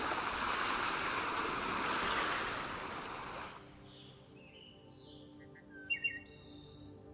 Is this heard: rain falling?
no